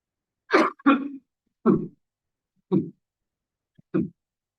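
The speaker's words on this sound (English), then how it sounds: "Excuse me for my cough." A person coughs and clears their throat five times in short, separate bursts, close to the microphone, with silence between each.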